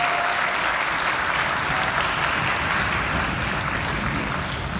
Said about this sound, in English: That's how we applaud an orchestra